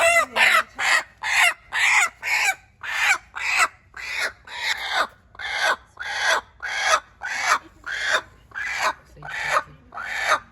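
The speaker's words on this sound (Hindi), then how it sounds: "गाइस ये मुर्गी है" A hen clucks in a steady, rasping series of about sixteen evenly spaced calls, close and fairly loud, with no talking.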